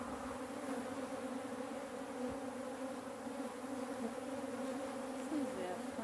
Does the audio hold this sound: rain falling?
no